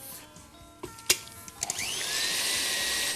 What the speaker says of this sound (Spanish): Vamos a batir a velocidad alta hasta encontrar el máximo de volumen.